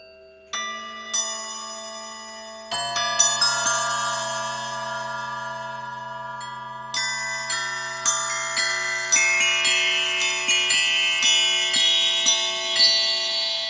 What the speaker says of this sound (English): you've got a glockenspiel, crotales, and tubular bells. So this is the Glock.